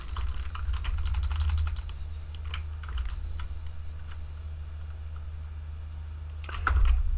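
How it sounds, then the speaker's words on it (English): A quiet computer keyboard types in soft, scattered clicks and light taps, close by over a low steady hum, with no talking. "Even when I try to be loud with this keyboard, it doesn't even work."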